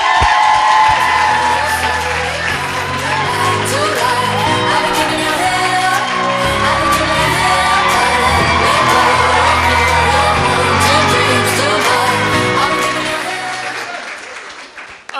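A crowd at a student union election results night claps and cheers in a loud, sustained round of applause, with whoops and shouts mixed in, fading only at the very end.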